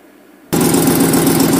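A 2009 GMC truck with an exhaust leak at the left manifold cranks and fires abruptly after a short quiet, then settles into a loud, steady, close idle with a rhythmic low rumble.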